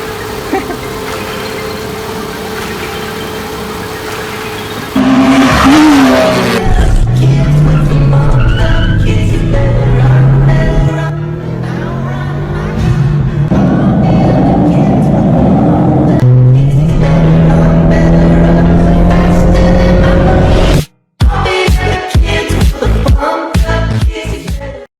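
A Hyundai Accent engine runs after a top overhaul that followed a broken intake camshaft, with a loud steady idle and rising and falling revs, and voices talking over it.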